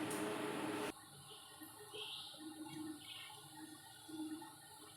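Water pours into a pan of cooked spices and oil for Kolkata-style egg biryani, a loud brief gush at first, then softer sizzling and bubbling in the pan.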